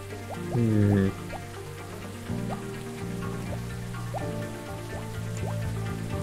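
Rain in a detective video game scene, a steady patter of raindrops on a surface with scattered drips and croaking frog-like calls, fairly quiet and even throughout.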